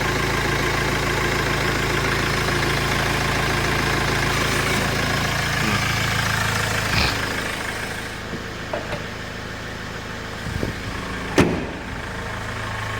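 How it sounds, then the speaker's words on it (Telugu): Mahindra XUV500 W8 2015 engine idling with the AC running, a steady low hum and drone held close, with a few short knocks and clicks toward the end and no talking. "ఏసీ రన్నింగ్లో ఇంజన్ సౌండ్ చూపిస్తున్నాం మీకు"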